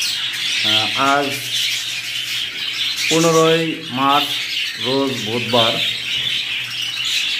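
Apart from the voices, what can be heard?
pet fancy birds squawking and chirping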